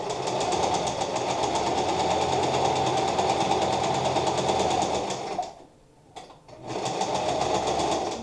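A sewing machine stitches fabric for a turtleneck blouse in a steady, close, rapid whir, stopping briefly near the end before starting up again.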